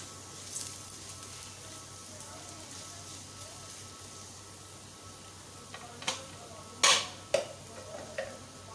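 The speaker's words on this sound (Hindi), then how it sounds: "प्याज को अच्छी तरह से ब्राउन कर लें।" Onions browning in ghee in a pan, a soft steady sizzle with occasional sharp clatters and stirring knocks near the end.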